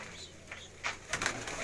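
An Indian galba pigeon gives a few soft, brief coos, fairly faint against a low background murmur.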